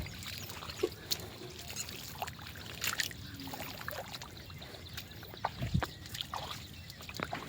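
Rainwater drains off a flooded rooftop, a soft trickling pour with scattered splashes and drips, close by and fairly quiet.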